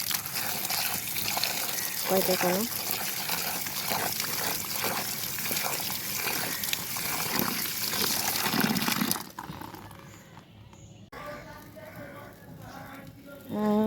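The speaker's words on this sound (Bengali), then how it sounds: "আর এখন হচ্ছে ধুয়ে নিব পানি দিয়ে" Peeled bananas are rinsed under running water, a close, steady splashing trickle lasting several seconds before it stops, followed by quieter handling noise. A person speaks briefly over it.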